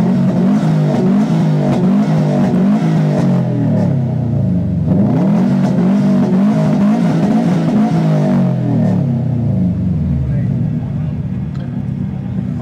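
Someone's Subaru STI at a 2023 car meet revs hard and loud, its engine note climbing and falling in two long sweeps before a final rise and fade, with background voices faintly present.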